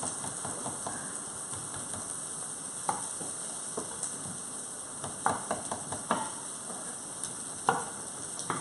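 Steak sizzling in a hot pan: a steady, close hiss of frying with scattered sharp crackles and pops throughout, no talking.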